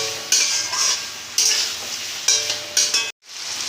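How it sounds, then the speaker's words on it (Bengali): Fried potatoes stirred with spices in a hot pan of oil: a constant sizzle with four or five scraping strokes of the spoon, then a brief drop to near silence before the frying resumes. "আগে আলুটা দেবো ভালো করে মশলার সঙ্গে কষিয়ে নেবো আলুটা"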